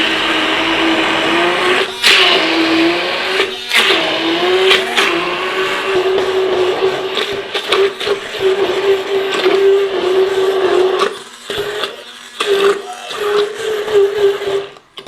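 A blender whirs as it blitzes salsa verde with Dijon mustard and olive oil, a loud, steady motor hum held for about fifteen seconds, with a few brief dips and cut-outs near the end.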